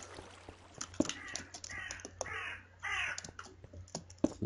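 A crow caws several times outdoors, harsh and fairly close, among scattered clicks and taps at a low overall level.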